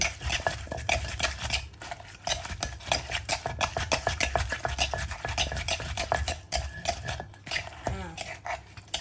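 Dense, continuous scraping and clattering of a utensil stirring palm sugar in a mortar to dissolve it while making Thai papaya salad with crab, close and busy.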